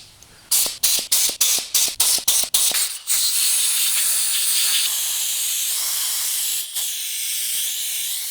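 Compressed air through a rubber-tipped nozzle blows out a motorcycle carburetor's circuits: eight quick, sharp blasts, then one long, steady hiss that fades slightly near the end.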